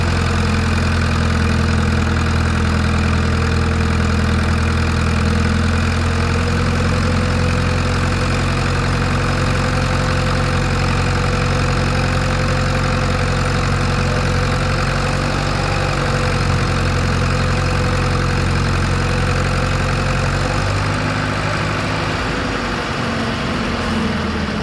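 A Case 400 tractor's gasoline engine runs steadily and loudly on a dynamometer at constant speed, a dense continuous drone with a low rumble that dips slightly near the end.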